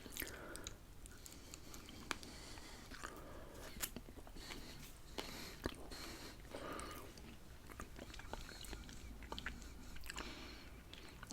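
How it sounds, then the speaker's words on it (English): Pineapple Lumps, a chocolate-coated New Zealand candy, are bitten and chewed close to the microphone. Soft, quiet crunches and sticky, squishy chewing sounds repeat steadily over a faint background, with no talking. "I might take one more bite of these pineapple lumps"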